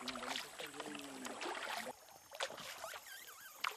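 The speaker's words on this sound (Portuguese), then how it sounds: "Agora mesmo nós estamos fazendo a transição do barco a motor para canoas a remo." Canoes paddled along the Anhangu river: soft, steady paddle strokes and water movement close by, with high bird or animal calls ringing out over the quiet water.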